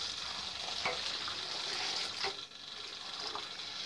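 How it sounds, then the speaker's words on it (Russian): Boiling syrup is poured steadily over apricots, giving a continuous hissing, bubbling splash with small gurgles and sizzles, close and fairly quiet. "Кипел сироп, и мы заливаем кипящим, хорошо кипящим, заливаем наши абрикосы."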